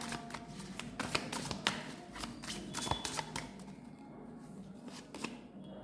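Tarot cards drawn from a deck make a rapid run of soft flicks and slaps up close, fairly quiet, that thin out toward the end, with no voice over them.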